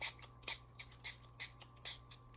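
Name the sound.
spraying stain from a spray bottle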